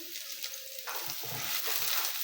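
Garlic and onion sizzle and fry in a pan, a steady close hiss that swells louder after the ingredients go in, with faint stirring under it.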